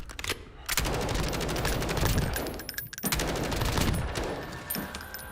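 Sustained rapid automatic gunfire from a gun fitted with a recoil spring in Warzone, a video game. Loud bursts run almost continuously, with brief gaps near the start and around the middle.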